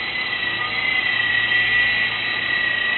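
An E-sky Lama 2 RC helicopter in indoor flight gives off a steady, close electric whine from its rotors and motor, unbroken and fairly loud.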